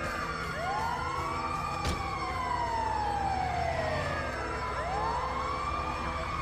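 An ambulance siren in the video game GTA 5 wails loudly and continuously, sweeping up and down in repeated rising and falling tones over steady traffic rumble.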